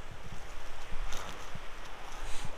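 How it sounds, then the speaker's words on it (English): Wind blows steadily outdoors near a deer camera and feeder site, buffeting a close microphone with broad rushing gusts and a few low thumps. "A little windy today, so hopefully y'all can hear me all right"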